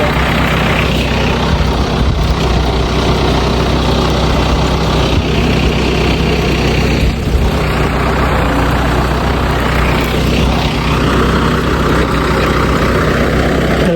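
A tractor engine runs continuously while ploughing a field, giving a loud, unbroken, rumbling drone with no pauses and no voices.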